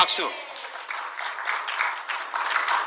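A church congregation gives brief, scattered applause after a sermon point, light clapping with a few distinct claps near the start, thin and moderately close.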